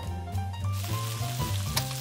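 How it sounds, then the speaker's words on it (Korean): Carbonara sauce sizzles in a frying pan, a steady close crackle with a faint background hum and clatter of cooking throughout. "튀기듯이 하는 거구나 이거는."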